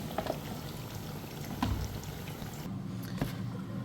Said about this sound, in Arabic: غادي نديرو في الماء حامي يطيب ونضيفو واحد شويه نتاع الملحه ونضيفو البطاطا تسلق